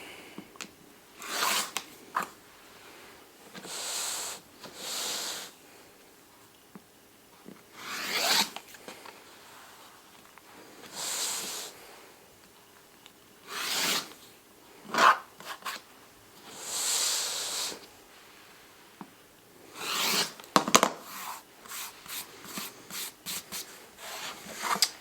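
A rotary cutter trims a sewn quilt fabric strip set for a rail fence block, a series of short, close rasping strokes separated by quiet pauses, with no talking.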